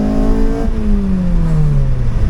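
A 2002 Honda Civic Si EP3 with a K20A3 engine fitted with individual throttle bodies accelerates, its steady engine note sliding lower as it shifts partway through, heard loud and close from inside the car.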